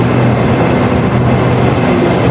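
Loud, steady low rumble of an SRT train arriving at Bang Sue station in Bangkok, with continuous mechanical drone and hum, no voices, filling the whole moment as it rolls in.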